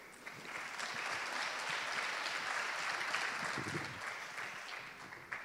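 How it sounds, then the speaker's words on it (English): Audience applause for panel speakers at a main-stage conference session, a sustained wash of clapping from a crowd that swells and then fades out. "Big applause for them."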